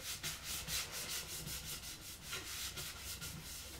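A cloth rubs finish into a wooden banjo hoop in soft, rhythmic strokes, faint and close with no talking.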